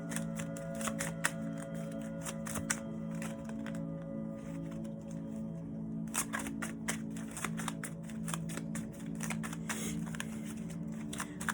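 Oracle cards being shuffled by hand, repeated crisp riffling and flicking at close range, with a faint hum in the background and no talking.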